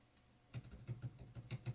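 Quiet typing on a standard Dell computer keyboard, a steady run of soft, muted keystrokes in close, even rhythm with no talking.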